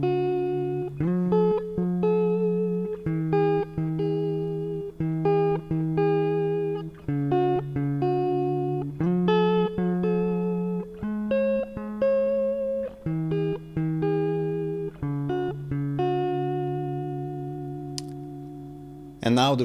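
Electric guitar plugged through a DI box and recorded into a Maschine Mk3, playing a clean, bright riff of plucked notes and chords in a steady rhythm, loud and alone.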